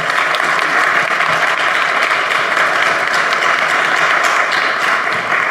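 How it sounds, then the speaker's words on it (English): An audience applauds to welcome a speaker at an international forum and expo, a dense and steady wash of clapping that stays loud from start to finish. "Please give an applause to welcome Morgan."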